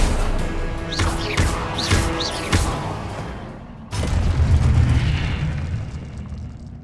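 Confringo spell blasts in the game Hogwarts Legacy, several quick booming bursts with whooshing sweeps over the first few seconds, then a heavier rumbling explosion that slowly fades.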